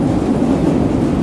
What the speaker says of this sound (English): now I'm at the train station, because I'm going to New York City.